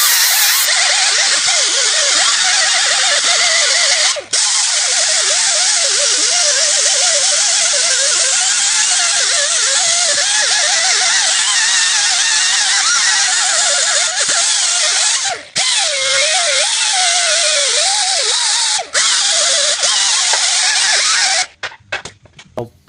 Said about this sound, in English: You have to clean all the rust of the hub